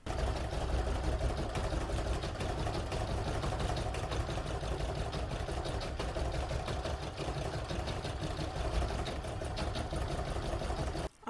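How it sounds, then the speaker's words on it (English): An embroidery machine stitches round four of a nutcracker oval coaster design in the hoop, a steady, continuous mechanical whir with rapid needle rhythm, close and constant throughout with no talking. "I've chosen the nutcracker for this design, so I'm now going to stitch round number 4."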